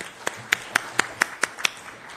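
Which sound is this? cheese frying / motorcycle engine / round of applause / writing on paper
round of applause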